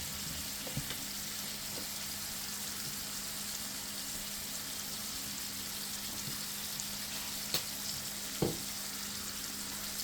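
A hamburger patty fries in a pan with a steady, even sizzle that holds throughout, broken by a few faint ticks and pops.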